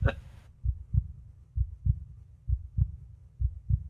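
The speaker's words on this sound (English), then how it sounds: "I don't like this heartbeat noise." A heartbeat sound effect throbs in a slow, steady lub-dub rhythm, low and muffled, repeating about nine times during a tabletop horror game session; a brief voice opens the moment.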